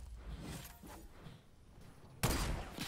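Gunfire in Fortnite comes as a faint spatter of distant shots at first, then one sharp, loud burst near the end.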